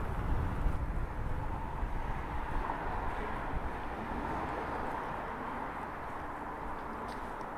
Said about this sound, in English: excuse the wind noise